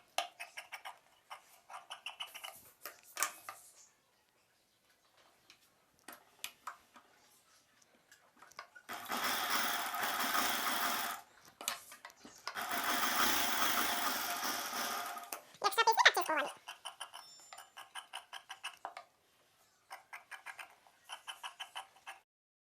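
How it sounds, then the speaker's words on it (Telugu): A sewing machine stitches a cut buckram piece onto the opposite-colour silk blouse cloth, running in two steady bursts of several seconds each, with quiet ticking and handling noises before and after. "కట్ చేసుకున్న ఈ బకరం పీస్ని ఆపోజిట్ కలర్ క్లాత్ పై వైపున పెట్టుకొని కుట్టు వేసుకోవాలి"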